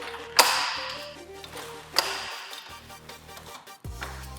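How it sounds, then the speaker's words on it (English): Safety pins being opened on a PLS Compact work platform: two sharp metallic clicks with short ringing tails, then a lower mechanical clunk near the end, all close and without talk. "Now we open the safety pins."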